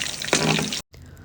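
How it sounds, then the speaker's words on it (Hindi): Koftas deep frying in hot oil give a close, bubbling sizzle that swells briefly, cuts out for a moment, then resumes more quietly. "तो ये चेक करें माशाल्लाह हमारे कोफ्ते कितने गोल्डन गोल्डन सुनहरी सुनहरी फ्राई हो रहे हैं।"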